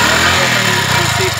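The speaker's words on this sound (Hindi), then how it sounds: "एयर इंटेक से गाड़ी चल रही है हमारी, स्टार्ट हो गई है" A motorcycle engine with its fuel pump removed runs steadily with no petrol, fed only through its air intake, making a loud, close, continuous rough drone.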